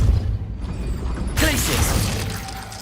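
A Depulso force spell cast in Hogwarts Legacy bursts in with a sudden bright, crackling blast partway through, over steady low game ambience, then rings on briefly as it fades.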